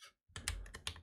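Quick keystrokes on a computer keyboard, a handful of sharp close clicks in about a second, typing a drive letter into a terminal.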